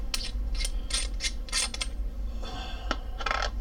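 Ratcheting clicks and grinding turns of a multi-use screwdriver tool being unscrewed up close, bursts of rapid mechanical clicking separated by short pauses over a low hum.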